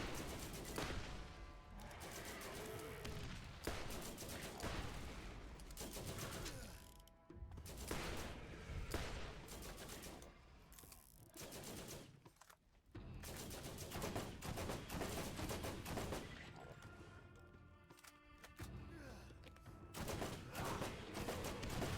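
Borderlands combat rifle fire crackles in dense, sustained bursts with clattering mechanical gun noise, loud and continuous, briefly dropping out around the middle before resuming.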